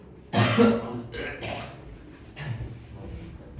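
A person coughs sharply up close, a loud burst followed by a few weaker coughs and throat-clearing sounds, with speech-like voicing mixed in.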